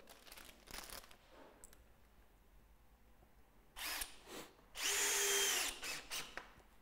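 Power drill driving small screws to fix brackets onto a Velux centre-pivot roof window frame: a few short whirring bursts early on, then louder, longer drive bursts near the end, with quiet handling noise between.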